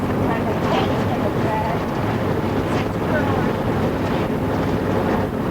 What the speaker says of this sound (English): Riding in this minivan.